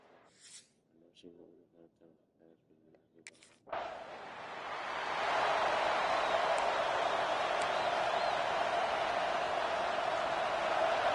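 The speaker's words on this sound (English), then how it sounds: "this crowd, full throat, splitting the eardrums" Stadium crowd noise from the EA Sports College Football video game swells suddenly into a loud, sustained full-throated roar after a few seconds of quieter murmur and a faint voice, holding steady to the end.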